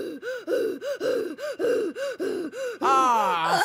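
A cartoon character gasps for air on the moon in a children's animated show, with about nine rapid, loud, strained rhythmic gasps followed by a longer wheezing groan.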